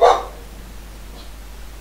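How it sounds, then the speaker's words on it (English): A pet dog barks once near the start, a short sharp bark followed by near silence with faint room hum. "There goes my dog."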